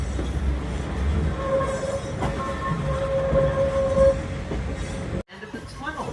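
The Santa Cruz Big Trees & Pacific train rumbles along the rails with a steady roar, a thin metallic wheel squeal rising midway, then the sound suddenly drops and opens out near a tunnel.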